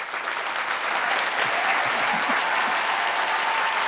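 Prerecorded applause sound effect played through a mixer, a dense, uniform crowd clapping that swells slightly and holds steady, with a few low voice-like murmurs partway through.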